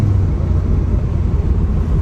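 Loud, steady low rumble of a 1G DSM's 4G63 engine running under load, close and continuous with no clear pitch sweep.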